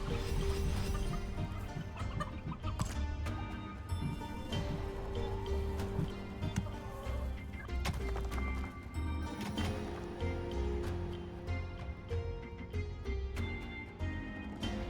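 Gobbler turkeys in the video game Dungeons 4 gobble repeatedly over a dense, loud layer of game music and effects, with clip-clop-like footsteps and other sounds mixed in throughout.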